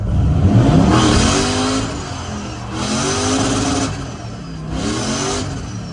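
A 600 HP OBS drift truck revs hard while accelerating in second gear, its loud engine roaring and rising in pitch in repeated pulls across the clip, with no talking.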